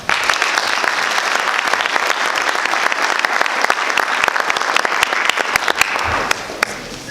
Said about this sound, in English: please join me in giving a warm welcome to another amazing Mizzou entrepreneur, Emily Housey.